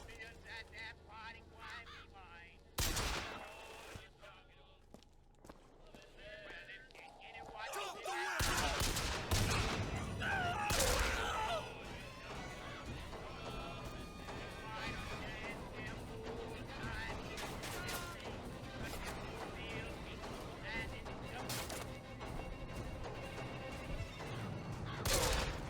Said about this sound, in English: Let me introduce you to bullets.